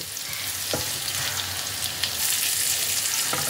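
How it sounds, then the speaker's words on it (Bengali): Eggplant and egg fry together in a pan with a dense, steady sizzle close by, broken by a few soft scrapes as a utensil stirs them. "এরমভাবে নাড়াচাড়া করে বেগুন আর ডিমকে একসাথে লাল লাল করে ফ্রাই করে নিতে হবে।"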